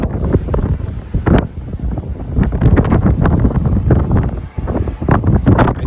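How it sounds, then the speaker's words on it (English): Strong gusts buffet a phone microphone on a balcony of the cruise ship Mariner of the Seas during a hurricane, with loud, continuous low rumbling wind that keeps surging and dropping throughout. "It's pretty windy out there."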